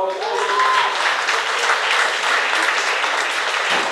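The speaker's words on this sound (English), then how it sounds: "good round of applause for that." A studio audience on a Mother's Day talk show breaks into loud, continuous applause, the dense clapping sustained evenly, with a brief voice faintly present at the start.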